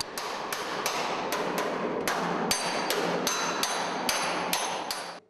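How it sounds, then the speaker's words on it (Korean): A small hammer strikes a dented steel shipping-container panel to straighten it, about a dozen sharp metallic blows at an uneven, steady pace over a constant background of workshop noise, with no talk. "철판이 심하지 않게 찌그러진 부분은 작은 망치로 두드려 펴준다"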